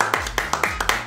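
Several people clap together in a quick, even rhythm, about seven sharp claps in a second, close and moderately loud, with a faint voice underneath.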